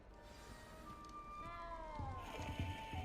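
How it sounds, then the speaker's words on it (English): A small cat in a Harry Potter video game gives a drawn-out, wavering meow that rises and falls, moderately close and fairly quiet, followed by soft rustling and light footstep-like sounds. "You don't need to be frightened, little cat."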